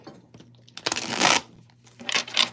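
Tarot cards are shuffled close by in a few quick riffling bursts, soft and papery, with faint talk around them.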